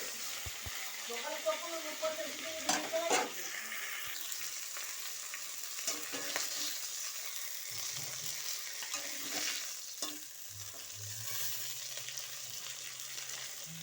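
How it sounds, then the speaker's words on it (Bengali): Pieces of snakehead fish frying in oil in a pan, a continuous bright sizzle with occasional clatter and scraping, and a faint voice partly audible in the background. "মাছগুলো ভেজে নিচ্ছি, মাছের ঝোল করব।"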